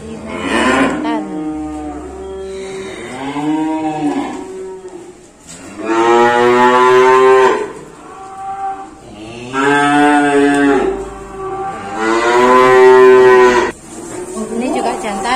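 Simmental bulls and other cattle being unloaded bellow in several long, loud, close moos, one after another, with brief pauses between the calls.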